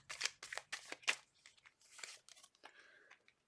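A tarot deck is shuffled by hand in a few quick riffling bursts, the cards slapping and flicking close by and fairly quietly, with no talk.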